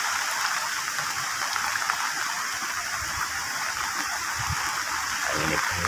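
Wind-driven rain sweeps over a village in Trenggalek in the late morning, a loud, constant rushing wash with faint gusting beneath it and no talking.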